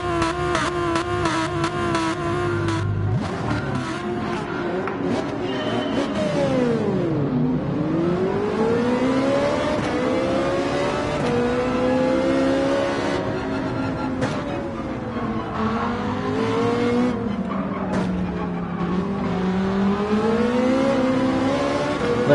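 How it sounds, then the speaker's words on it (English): A Ferrari 458 in Gran Turismo 7 accelerates hard through first, second and third gears on a race at Sardegna, its high engine note rising, dropping at each shift and climbing again, loud and continuous with no talking. "Let's see if the 458 Ferrari is a cheat code to this race, because it is a very quick at the first, second, third gear acceleration."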